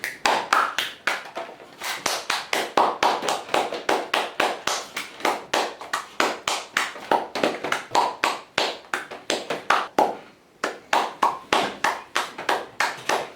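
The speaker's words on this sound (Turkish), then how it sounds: "İkimiz de alkışlıyoruz" Two people clap hands together in a rapid, rhythmic stream of sharp, close claps with a brief pause near the end, loud and alone without talking.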